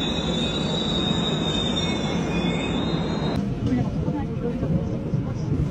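A train rolls into a station in Korea with a long high-pitched wheel squeal that cuts off partway, leaving the rumble of rail cars beneath.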